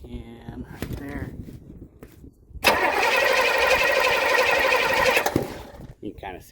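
A 1965 Pontiac Catalina Safari Wagon engine cranks briefly, then catches and roars loudly for a few seconds before cutting back, with a voice talking before and after.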